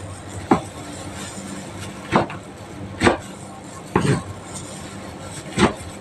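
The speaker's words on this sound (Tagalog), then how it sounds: "inihiwa ko muna ng kutsilyo" A kitchen knife chops through saluyot (jute leaves) on a cutting board in five sharp, separate thuds spaced about a second apart, close and clear over a quiet background hum.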